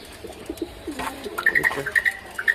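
A dove kept as a household bird coos and calls in several short bursts, moderately close, with brief chirps scattered through a quiet room and no talking.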